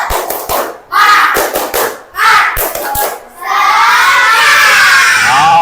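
A class of children do a rhythmic spirit clap chant, bursts of shouted chanting broken by sharp sets of hand claps, then a sustained loud cheer and applause at the end.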